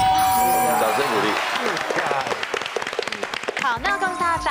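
Studio audience applause breaks out on a Taiwanese TV variety game show, a burst of clapping under a host's voice and light music.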